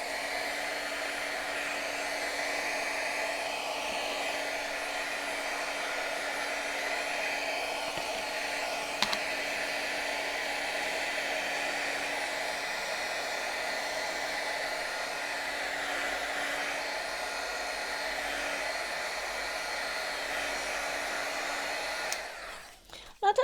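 A hair dryer runs steadily for a long stretch, drying powder ink on glossy card stock with an even whooshing hum, then clicks off at the end.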